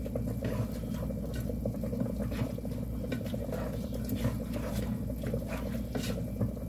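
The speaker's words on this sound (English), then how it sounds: "I'm gonna just stir these up and get them hot again" Chicken leftovers stirred in a pan while reheating, a steady low hum of heat under soft scraping and patter from the spoon, continuous and close with no talk.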